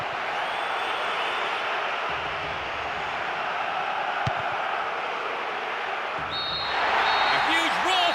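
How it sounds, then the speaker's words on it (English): A football stadium crowd in the PES 6 video game roars at the final whistle: a loud, steady, dense wash of noise that swells further near the end. "A huge roar from the crowd as the referee blows the final whistle."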